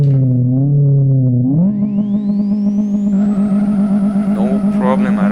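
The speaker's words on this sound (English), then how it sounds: "So first of all, let's try burnout, okay?" A Saveiro 1.6 single turbo doing a burnout in Live for Speed: the engine idles with a low drone, then revs hard and holds at a loud sustained pitch while a rising tire squeal climbs and sustains on top.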